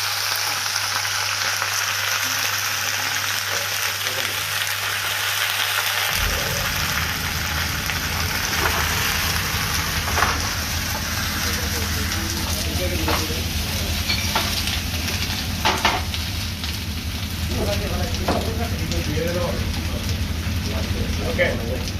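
Garlic frying in a pan while chicken with lemon is cooked, giving a dense, continuous sizzle and crackle close up, with a low hum dropping away early on.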